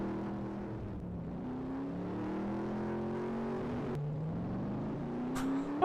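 A vehicle engine in Farming Simulator 19 drones steadily while driving, its pitch climbing and dropping with repeated shifts, loud and close with no talking, ending on a brief thump.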